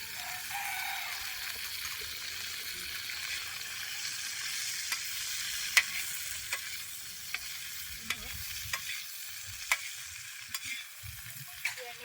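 Steady sizzling of okra frying in hot oil, with sharp scraping clicks of a spoon stirring the pan at irregular intervals, no voices.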